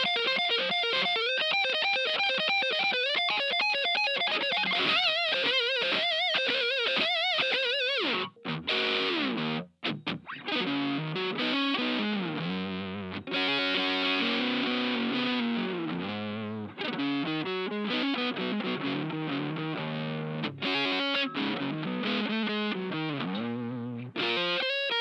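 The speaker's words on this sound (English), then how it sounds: "let's check the neck pickup with the overdrive" An overdriven electric guitar on the neck pickup through a TuneBoy travel amp plays a long, flowing melodic passage with a warm, rounded, saturated tone and sustained notes, with no voices.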